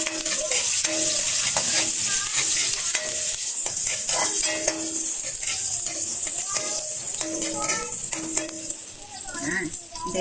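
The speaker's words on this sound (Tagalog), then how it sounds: "Lalagay na natin yung ating bawang at saka sibuyas" Garlic and onion sauté in a pan with a steady loud sizzle, broken by repeated scraping stirs, while someone talks over the cooking throughout.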